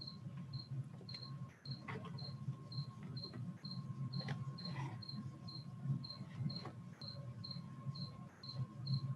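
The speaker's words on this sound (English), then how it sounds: "And just some more crickets for your thinking." Crickets chirp in a steady, regular rhythm, high-pitched pulses repeating over a low ambient hum, with no talking.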